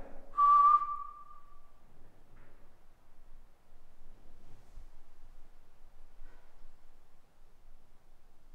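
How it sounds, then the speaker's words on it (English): A single clear, sustained whistle sounds briefly near the start inside a care home, then fades into quiet hiss and faint room noise. "That was a clear whistle."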